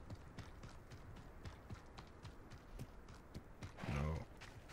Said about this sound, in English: What was that? Sounded like a horse.